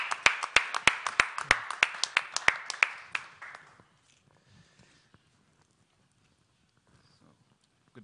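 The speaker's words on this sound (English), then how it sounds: "Let's give a round of applause to the head of Department of Material Processing from Riga Technical University, Mr. Artis Kromanis." An audience claps to welcome a speaker at a university talk. The clapping is sparse and fairly even for about three seconds, then fades into near silence with faint room murmur.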